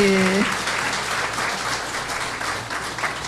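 Audience applause fills a church gathering, broad and steady clapping from many hands lasting the whole moment, with a brief voice at the very start.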